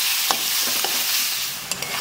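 Tamarind for pickle fries in a pan with a continuous hissing sizzle, punctuated by a few soft scraping stirs close by.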